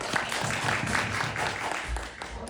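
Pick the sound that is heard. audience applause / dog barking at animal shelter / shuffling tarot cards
audience applause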